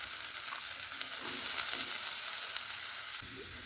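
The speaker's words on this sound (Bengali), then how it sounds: "আলুগুলো হালকা ভাজা হয়ে গেলে এর উপর আমি গাজরগুলো দিয়ে দিচ্ছি।" Potatoes and carrots fry in a pan for a drumstick flower dish, giving a steady, soft sizzle with faint stirring scrapes throughout and no talking.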